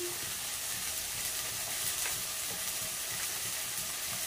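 Spices sizzle and fry in a pan as turmeric is added while cooking a home-style Bengali dish, a steady close crackle and hiss with occasional stirring, no talking.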